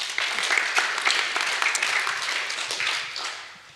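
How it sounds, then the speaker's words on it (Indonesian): Applause from a congregation at a youth church service of the GPPS congregation in Sepanjang, many hands clapping in a dense, steady burst that fills the room for a few seconds before tapering off. "tepuk tangan untuk Kevin."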